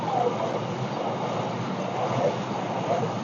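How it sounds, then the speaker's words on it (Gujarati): A freight train rolls past a closed level crossing, giving a steady, dense rumble and rushing roar that holds evenly throughout, fairly near, with no clear voices. "માલગાડી લાગે માલગાડી."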